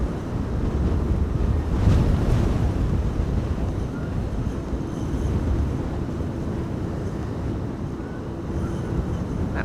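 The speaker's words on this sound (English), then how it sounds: "Lots of wind still blowing from the west" Strong westerly wind buffets the microphone at Amsterdam Schiphol Airport during Storm Benjamin, a loud, steady roar with gusty surges and no clear voices.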